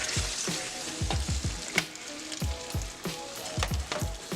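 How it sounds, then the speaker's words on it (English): Heavy cream sauce simmers in a pan for salmon Alfredo as noodles are stirred in, giving a steady close bubbling sizzle broken by repeated soft scraping and clinking stirs. "So I have some heavy cream just kind of simmering over the stove"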